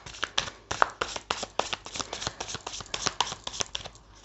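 Tarot cards shuffled from a deck in quick, crisp riffling bursts, close and fairly loud, repeating in a steady rhythm for several seconds with no talking.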